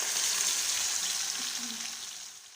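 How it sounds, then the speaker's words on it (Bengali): Katla fish frying in hot oil gives a steady, loud bright sizzle that fills the whole stretch, easing slightly toward the end, with faint low clinks beneath. "তো আমার এখানে মাছ ভাজা হচ্ছে"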